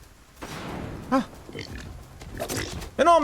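Pig grunts from the video game Romestead, a Roman mythology survival game, come as short snorting bursts around the middle and again at the end, set amid busy game effects and someone talking.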